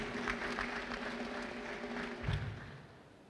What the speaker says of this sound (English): A round of applause for him in absentia.